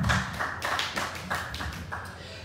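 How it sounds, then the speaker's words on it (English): An audience at a cannabis expo panel gives a short round of applause, a dense patter of many hands clapping at moderate distance. It fades slightly toward the end. "So let's offer Ellen, and when she comes in, Amber, a round of applause."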